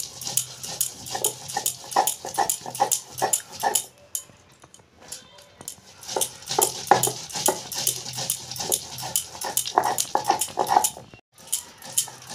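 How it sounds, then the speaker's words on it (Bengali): Soaked rice ground by hand on a stone grinding slab, a rhythmic scraping and rubbing repeated in steady strokes with a brief pause midway, close and fairly loud. "এইভাবে আমি সব চালগুলো বেটে নেব"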